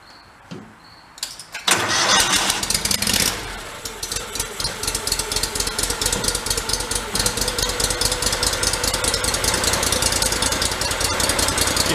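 A Terramite compact machine's small engine, repaired after throwing a rod, cranks and fires loudly after a quiet moment, revs briefly, then settles into a steady, rapidly pulsing idle close up.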